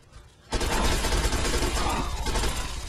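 Gunfire in Fallout 3 bursts in abruptly after a short quiet lead-in, then a dense, continuous loud volley of shots carries on to the end with no talk.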